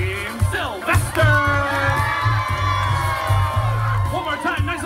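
An audience at a Fourth of July party cheers loudly, a dense mix of whoops, yells and children's shouts that holds steady and swells in bursts, with some voices cutting through.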